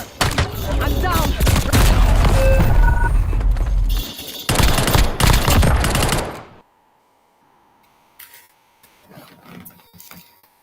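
Gunfire from Warzone comes in loud, dense automatic bursts with explosions for several seconds, then cuts to near silence with faint game sounds.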